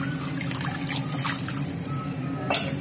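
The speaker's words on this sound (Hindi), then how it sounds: "पानी और शामिल करेंगे।" Water trickles and pours into a paste of onion, garlic and ginger for a Memoni curry khowsay, a steady close liquid dribble with a brief louder splash near the end.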